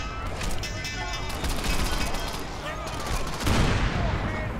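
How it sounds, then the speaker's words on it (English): Cops shooting in the Xbox 360 game Crackdown: sustained rapid gunfire with sharp repeated shots and a heavier blast near the end, dense and loud, with a voice faintly underneath. "it doesn't work when I got the cops shooting at me, too"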